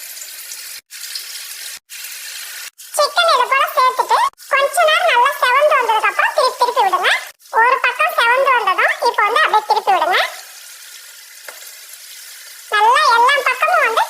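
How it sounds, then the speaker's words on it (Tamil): Marinated chicken pieces fry in hot oil in a home kitchen, a steady close hiss of sizzling running the whole time while a voice talks over it almost continuously. "எண்ணெய் நல்லா சூடாயிடுச்சு நம்ம ஊற வச்சிருக்க சிக்கன் வந்து பத்து நிமிஷம் ஆயிடுச்சு இப்போ ஒரு ஒரு பீஸா எடுத்து சேர்த்துக்கலாம்"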